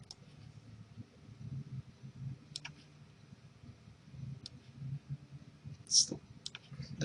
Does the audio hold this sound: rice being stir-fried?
no